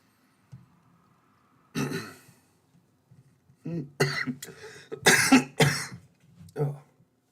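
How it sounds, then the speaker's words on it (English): Several harsh coughs and throat-clearing bursts from a man with a lingering nasty cough, close to the mic, clustered in short fits with brief pauses between them. "got a little nasty cough still"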